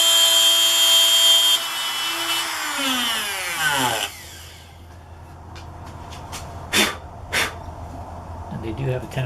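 Handheld router cutting into wood, a loud whining motor with a grinding cut that winds down in pitch midway, then a few sharp bumps and knocks as the tool settles, with brief talk over it.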